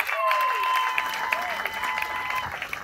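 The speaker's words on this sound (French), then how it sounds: "je vous demande d'applaudir encore Madame Massaka." An audience at a ceremony applauds Madame Massaka, soft and fairly distant clapping with a sustained tone ringing over it throughout.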